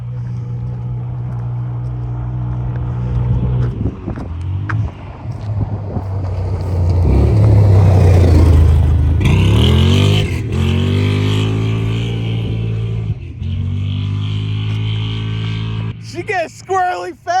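A CFMOTO ZForce side-by-side, fitted with a clutch kit, Stingray Helix stock spring, ECU tune and exhaust, revs hard at speed. The engine drone rises and falls as it passes close, with wind noise and people talking over it.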